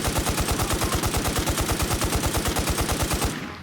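Rapid automatic gunfire in a video game boss fight against a giant centipede called the Slicer, a loud steady stream of evenly spaced shots that stops abruptly near the end.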